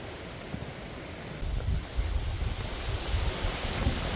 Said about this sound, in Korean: 능선에 가까운지 바람이 세차게 몰아칩니다.